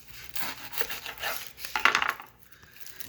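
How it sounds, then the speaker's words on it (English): A knife cuts through a sweet Vidalia onion on a board while making an old-fashioned winter beef stew, giving a run of close, irregular chopping and scraping taps with a sharper burst near the end, no voices. "Now we're going to cut up an onion."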